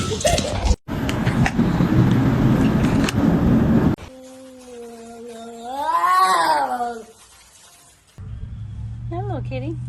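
A kitten lets out a long, rising and falling meow, then a shorter cry moments later, heard close up between stretches of people talking and background noise.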